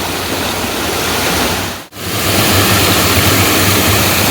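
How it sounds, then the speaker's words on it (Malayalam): Strong rushing water at Oliyathumpara waterfall in Mezhathur, a loud, steady broadband roar that fills the whole clip without a break apart from one brief dip in the middle. "വെള്ളത്തിൻ്റെ ശബ്ദം കേട്ടോ, ഭയങ്കര ശക്തിയുള്ള ഒഴുക്കാണ്."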